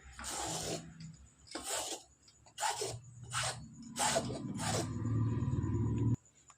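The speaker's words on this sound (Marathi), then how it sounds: "आता मी ह्याच्याने किसून घेणार आहे" Peeled pumpkin being grated by hand, a series of rhythmic rasping strokes, about six in a row, close up, ending in a longer continuous scrape.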